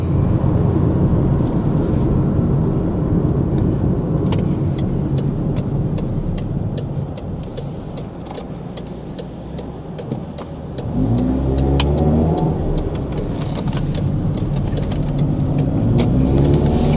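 An MG3 hatchback's small 1.5L engine revs loudly as it accelerates, a droning engine note that dips briefly, then climbs again with rising pitch, heard from inside the car with road noise.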